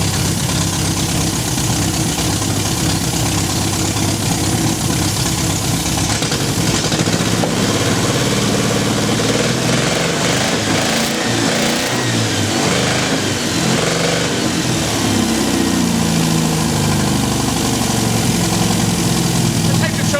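An MGB car engine with no exhaust fitted, its pipe ending under the car, runs loud and close, idling roughly with a few swells in revs midway, while voices talk over it.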